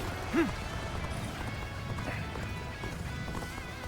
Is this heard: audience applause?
no